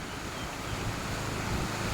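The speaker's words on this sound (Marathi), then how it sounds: "ह्या पाण्याला किती गती येते मित्रांनो तुम्ही बघा भयानक गती आहे या पाण्याला" Fast-flowing water rushes along the Bhadghar canal in a steady broadband roar, heavy with wind buffeting on the microphone and no voices.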